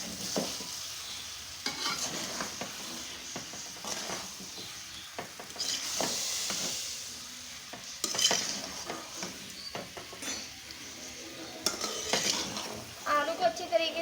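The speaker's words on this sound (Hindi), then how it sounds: "मसाले में आलू को भी 2 से 3 मिनट तक भून लेंगे।" Cut potatoes being stirred and fried in spice masala for aloo bharta, uneven bursts of spoon scraping and clanks against the pot over a low, steady sizzle, close by.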